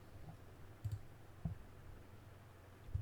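Computer keyboard typing comes as a few quiet, sparse key clicks at about 0.9, 1.5 and 3 seconds against a low room hum.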